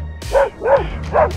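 A dog on a street in Tiradentes, Minas Gerais, barks at a car wheel: three loud, close, evenly spaced barks over a low idling engine rumble.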